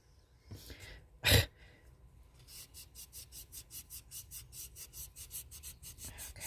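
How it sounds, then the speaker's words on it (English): Sanding down a casting powder pigment piece, a fast rhythmic rasping scrape repeating steadily for several seconds after a single sharp knock, close and fairly quiet. "I'm sanding it down a little bit."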